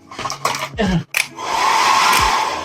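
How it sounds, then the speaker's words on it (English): A hair dryer starts up after some brief handling noises and then runs with a steady, loud whirring blow. "a hairdryer just in case I need it"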